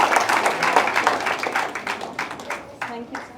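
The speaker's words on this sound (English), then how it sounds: "Can we all give him a round of applause, please? Big round of applause." Audience clapping at an Ayurveda Day award function fills the room in a dense burst, gradually thinning toward scattered claps, with voices speaking over it.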